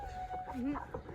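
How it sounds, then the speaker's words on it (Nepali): An egg-laying hen clucks in a few short, close bursts while a voice murmurs in the background. "आयो सुनको अन्डा दिने कुखुरा"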